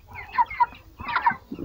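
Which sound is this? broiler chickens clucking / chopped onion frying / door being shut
broiler chickens clucking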